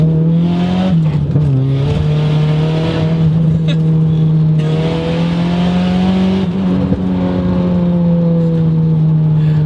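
Turbocharged KA-swapped Nissan S14 240SX accelerating hard up to its rev limiter, a loud steady close engine drone with rising harmonics that holds at the limiter, heard from inside with occasional talk over it.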